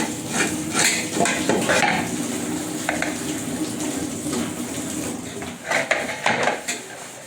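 Pots and dishes scrubbed by hand in a home kitchen before the pre-dawn Ramadan meal, with steady scouring and clinking metal and crockery, bursts of scraping, and a few louder knocks near the end, all close up.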